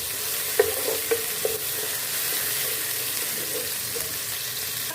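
Crushed garlic, ginger and green chili fry in oil with browned onions, making a dense, continuous sizzle with a few sharp early clinks of a spoon against the pan.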